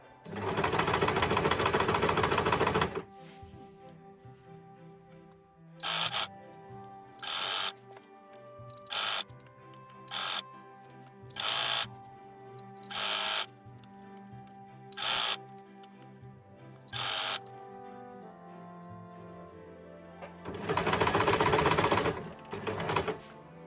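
A sewing machine stitches bias binding onto a sleeveless top, with long loud whirring runs at the start and end and a series of short bursts between, separated by quiet pauses.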